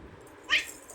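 A person imitates a cat meowing for a baby, giving one short, high, nasal meow midway over quiet room background.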